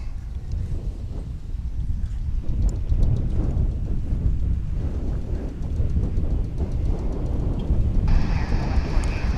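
A jet airliner takes off at DFW International Airport, producing a steady, loud broadband roar that holds for the whole stretch without easing.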